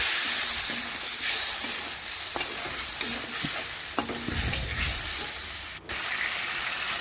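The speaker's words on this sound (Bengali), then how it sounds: "সমস্ত কিছু এখন ভালোভাবে মিশিয়ে একটু মশলাটা কষিয়ে নেব।" A spice mix of chili powder and other ground spices is stirred and fried in oil in a pan, giving a constant loud sizzle broken by scraping strokes of the spoon, close and with no talking.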